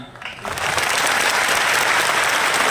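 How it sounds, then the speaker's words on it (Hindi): Applause from the audience at an RCM management team meeting swells within half a second into loud, dense clapping and holds steady and close. "ईमानदारी से जो कर रहे हैं उनके लिए पहले ताली"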